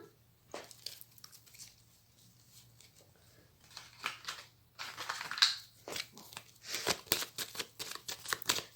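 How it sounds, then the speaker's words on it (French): A deck of tarot cards being cut and handled at close range, with scattered papery rustles and flicks that start faint and grow louder, denser bursts of card noise toward the end. "je vais faire une coupe avec le tarot que j'utilise pour les consultations"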